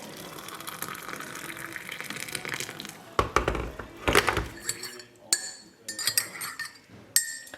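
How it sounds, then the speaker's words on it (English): Cold water poured into a drink, first a soft trickle, then a few clinks of glass and short splashy gushes near the microphone, with quiet talk mixed in. "And IB will have a little bit of cold water in his."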